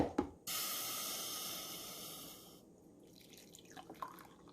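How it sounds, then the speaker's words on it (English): Hot coffee poured from a Mr Coffee 12 cup maker's carafe into a cup, a steady close splashing stream lasting about two seconds, then a brief trickle and a few faint clinks. "So we're going to pour a cup of coffee."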